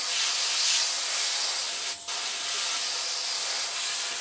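Airbrush spraying paint onto skin, a close, steady airy hiss that holds evenly throughout, broken by one short pause about halfway, with no talking.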